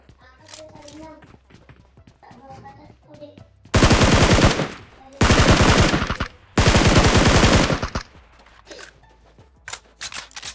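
In PUBG Mobile, three long bursts of loud rapid automatic gunfire come in quick succession, with quieter scattered shots around them and people talking casually between the bursts.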